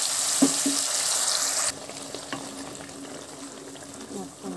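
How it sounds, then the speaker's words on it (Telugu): Ground paste fries in oil in a kadai, a loud hiss with a few spatters and stirring knocks that drops to a quieter steady sizzle partway through. "ఆయిల్ వేసుకొని మనం గ్రైండ్ చేసి పెట్టుకున్న ఈ పేస్ట్ మొత్తం వేసి పచ్చివాసన పోయే వరకు వేయించుకోవాలి"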